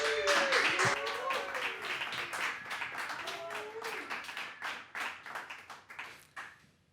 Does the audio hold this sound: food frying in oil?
no